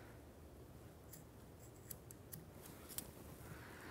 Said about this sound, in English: I'm gonna find my scissors,